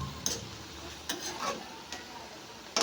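Potato and tomato curry stirred in a pan just after the lid comes off, with a low sizzle and a few soft scraping strokes spread through the stretch, fairly quiet and close.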